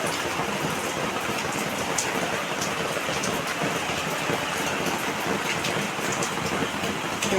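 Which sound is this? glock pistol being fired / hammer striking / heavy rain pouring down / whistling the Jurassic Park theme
heavy rain pouring down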